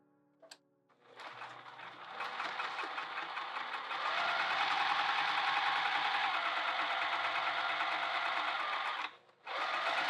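A sewing machine stitches the sides and bottom of a handbag, running steadily and close up for several seconds after a brief click, then stopping abruptly near the end.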